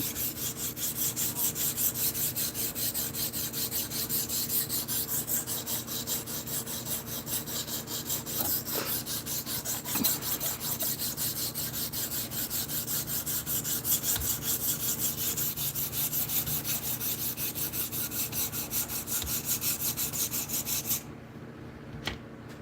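A cheap steel 7-inch fillet knife is drawn across a sharpening stone in steady, continuous rasping strokes that run close and fairly loud for most of the stretch, then cut off near the end.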